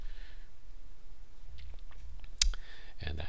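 Keys tapped on a computer keyboard while entering a terminal command, a few scattered clicks with one sharper keystroke near the end, quiet and close against a faint background hum.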